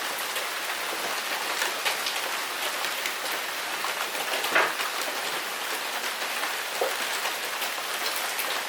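Steady rain falls on and around a gate, a dense even patter with scattered louder drops and no voices.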